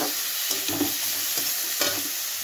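Cauliflower and peas sautéing with spices and salt in a pan, a constant hissing sizzle broken by several dull scraping thuds of stirring, close by and without any voices.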